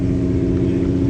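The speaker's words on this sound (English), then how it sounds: "over here, it looks like we have some dyno testing" A car engine at a steady high idle or held rev on a dyno at a Mustang car show, loud and close with a constant droning hum throughout, no voices.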